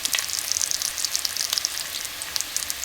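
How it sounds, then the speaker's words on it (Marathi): Green chili and ginger sauté in hot ghee for a samosa filling, a soft, steady crackling sizzle with fine popping spatters and no talk. "मिरची आणि आलं आपण छान परतून घेऊया"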